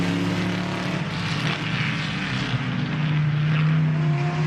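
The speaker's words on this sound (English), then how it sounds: "There's that Alfa Romeo again." Alfa Romeo racing car in a vintage race at Road Atlanta, engine note rising and holding a strong tonal whine as it passes close by, loud and alone without talk.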